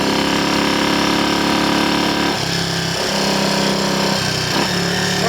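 A Triumph Scrambles Cub replica motorcycle with an Amal 376 Monobloc carburettor roars loudly and steadily while being ridden, then the engine note drops and surges in a few abrupt steps as it jumps out of gear.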